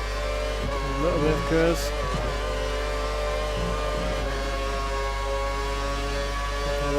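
A Lotus Formula 1 car in the F1 2013 game accelerating along a short straight at the German round, a steady high engine whine with a brief rising rev, while someone talks over it.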